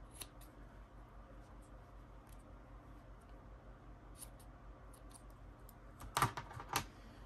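Scissors snip leftover string on a baby turban headwrap: a couple of faint crisp cuts near the end, following quiet rustling handling sounds.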